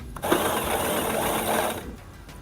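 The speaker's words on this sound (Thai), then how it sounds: "เย็บไปตามรอยนะครับ ตามรอยที่เรากดไว้มันจะโค้งยังไงก็ตามนั้น" A sewing machine stitches a sleeve onto a shirt in one steady, close, whirring mechanical run of about one and a half seconds before stopping.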